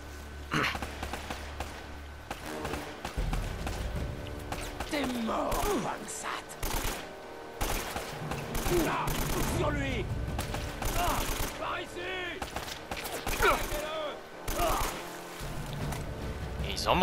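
AK rifle fire in Uncharted: Drake's Fortune crackles in repeated bursts and scattered shots, with someone talking loudly over much of the shooting.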